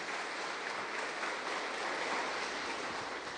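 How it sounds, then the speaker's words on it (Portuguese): Church congregation at a Sunday service gives a round of applause for Jesus, a steady, even spread of many hands clapping throughout with no voices standing out. "E dê uma bela salva de palmas para o Senhor Jesus."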